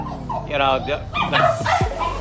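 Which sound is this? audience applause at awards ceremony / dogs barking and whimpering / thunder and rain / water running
dogs barking and whimpering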